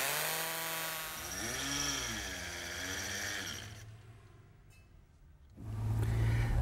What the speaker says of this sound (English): this is a hammer drill. It's actually, it looks like a drill, but it sort of hammers as it turns.